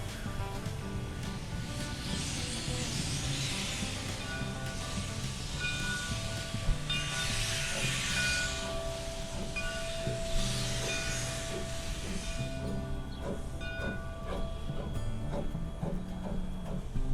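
The Oregon Coast Scenic Railroad steam locomotive at Garibaldi gives off a steady, loud hiss of released steam that swells in broad waves over a constant mechanical rumble, heard from nearby without talking.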